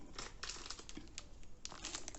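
A small packet of potassium monophosphate fertilizer for orchids is handled, giving close, continuous crinkling and rustling of the packaging with scattered sharper crackles and no talking.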